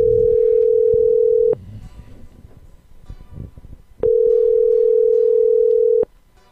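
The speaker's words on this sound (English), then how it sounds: "I'm calling you now." A telephone dial tone hums steadily as a call is placed, with a long tone, a pause full of faint background noise and movement, then a second long tone that cuts off abruptly.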